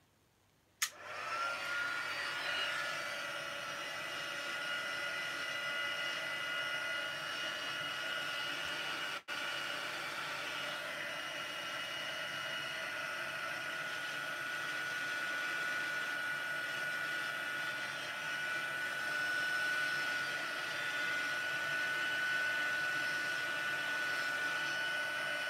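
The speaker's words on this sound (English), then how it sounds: "I'm going to give them a bit of a dry with the heat tool." A heat tool blows continuously for over twenty seconds while drying paper flowers made from scrap designer paper, a steady close whooshing hum with a faint whine that barely changes.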